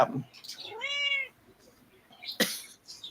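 A house cat gives one clear, fairly close meow that lasts about half a second, followed by quieter household noises and a sharp burst near the end.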